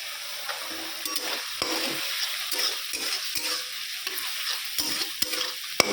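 Ginger and cumin paste, coriander paste and green chili fry in a pan, giving a steady close sizzle broken by sharp clicks and scrapes of stirring, with no voices.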